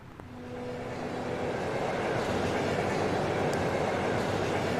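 A train in The Legend of Heroes: Trails of Cold Steel video game rumbles steadily along the rails, a dense continuous roar that swells slightly at the start and then holds level.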